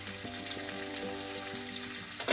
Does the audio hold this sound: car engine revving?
no